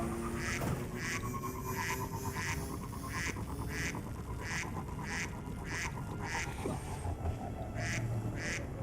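A duck button in the Destiny video game plays a steady run of short, evenly spaced quacks, about one every half second, over constant background game noise.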